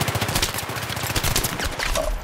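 Rapid bursts of automatic gunfire from the Battlefield 3 video game ring out loud and continuous, with dense overlapping shots throughout.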